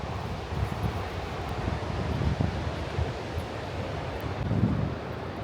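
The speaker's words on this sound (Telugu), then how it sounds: "చల్లగా గాలి వీస్తుంది." Cold wind blows steadily across Portobello Beach in Edinburgh, a continuous rough roar buffeting the microphone, with gusts swelling now and then and no voices.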